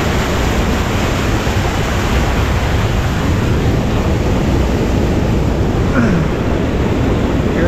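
The strong current of Mapalyao Falls in Quezon, Nueva Vizcaya, pours down as a loud, steady roar of rushing water that fills the whole span without a break.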